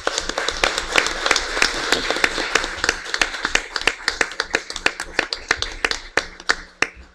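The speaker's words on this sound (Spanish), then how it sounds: "Les damos un aplauso." Applause from a modest audience at the end of a panel discussion on anticorruption and democracy, fairly sparse individual claps that thin out toward the end, with some close hand claps standing out.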